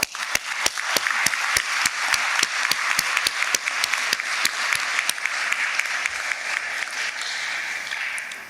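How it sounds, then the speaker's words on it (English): A crowd applauds steadily at a university commencement ceremony, a dense wash of clapping with one nearby person's sharp, evenly spaced claps standing out, fading slightly toward the end. "please give our graduates another round of applause"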